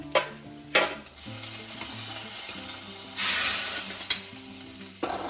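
A hot tempering of fried coconut pieces and dried red chillies is poured into a Malabar-style chicken curry, giving a loud swelling sizzle after a few sharp clatters, then settling into a softer hiss.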